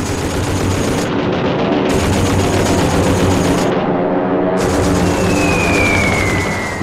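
Wartime gunfire during a Japanese attack on a US base in World War II, dense rapid machine-gun bursts and rattling shots in a continuous loud barrage, with a descending whine near the end.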